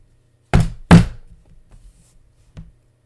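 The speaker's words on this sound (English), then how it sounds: "don't be knocking on motherfuckers' windows" Two firm knocks land on a car window in quick succession, followed a moment later by a faint single tap, all close and otherwise quiet.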